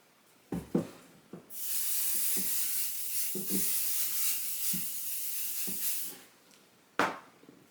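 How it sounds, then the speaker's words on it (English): A steady hissing spray of an aerosol can on a youth hoodie lasts about five seconds, bracketed by a few short clicks and taps before and after. "Now I'm going to spray this."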